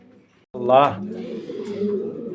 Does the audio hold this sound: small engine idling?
no